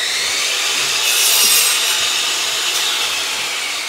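A power saw rips along a length of cedar cladding for a garden office door, a steady, close, bright cutting hiss that swells midway and runs on alone without talk.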